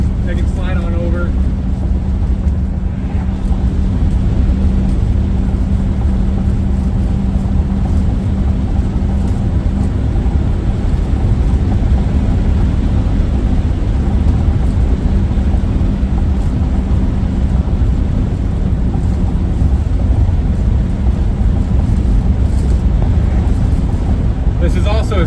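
A 1950 Oldsmobile 88 with its 303 Rocket engine and 3-speed manual cruising at about 70, a loud, steady low engine drone with road and wind roar throughout, someone talking over it.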